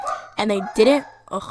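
Dogs barking indoors, several sharp yips and barks in quick succession, close and fairly loud, mixed in with a person talking.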